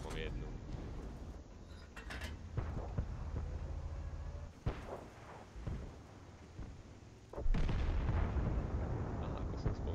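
Tank cannon fire and artillery blasts in a tank video game boom out in several sharp, heavy bursts over rumbling battle noise, with a voice talking underneath.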